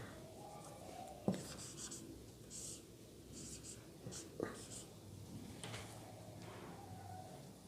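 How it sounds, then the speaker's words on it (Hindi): Pen or marker writing out a fraction answer while solving a rational-number math problem, heard as soft scratchy strokes and a few light taps in a quiet room, fairly faint and close. "इसको थोड़ा और बड़ा लिख देता हूँ।"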